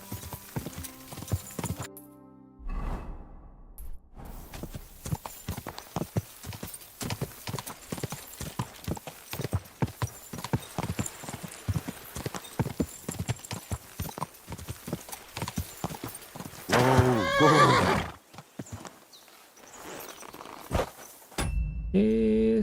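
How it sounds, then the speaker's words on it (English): Horse hooves clip-clop steadily on the ground in Kingdom Come: Deliverance II, with a whinny breaking in near the end; brief shouted voices and game sounds mix around the close, steady hoofbeats. "Easy, good horse."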